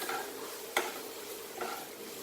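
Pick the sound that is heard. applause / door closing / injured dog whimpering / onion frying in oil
onion frying in oil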